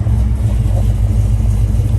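A 1969 Ford Mustang engine runs steadily while warming up, a deep continuous rumble, loud and close, with no talk.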